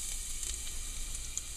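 Chopped garlic sizzles in hot oil in a pot, a close, steady hiss and crackle throughout.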